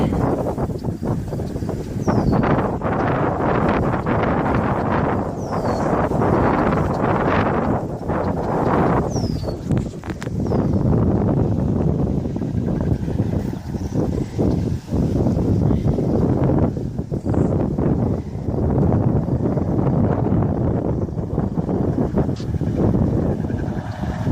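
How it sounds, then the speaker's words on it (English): A John Deere two-cylinder tractor, a 720 or 730, runs steadily in an outdoor hay field with a continuous low engine rumble. The sound draws nearer under gusts of wind buffeting the microphone. "I know he's running a John Deere 2-cylinder tractor today"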